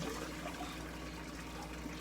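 Water drains from a pan of cooked noodles in a home kitchen, a continuous soft splashing and trickling pour, close and fairly quiet, with no talking.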